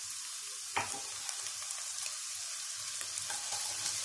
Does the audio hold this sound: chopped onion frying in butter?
yes